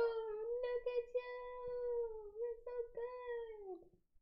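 A cat gives one long, drawn-out meow that wavers a little in pitch, loud and close, and fades at the end.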